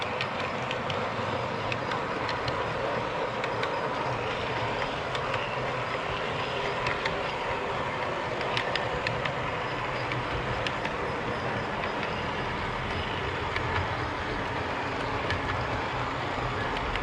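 A double-stack freight train rolls past steadily and loudly beneath roadside billboards, with a continuous rumble and rhythmic clatter of wheels on rail throughout.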